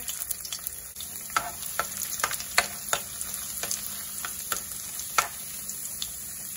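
Ginger sizzling and frying in cooking oil for chicken adobo, a steady close crackle broken by sharp pops and stirring scrapes, with no talking.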